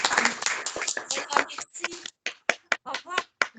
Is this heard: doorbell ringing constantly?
no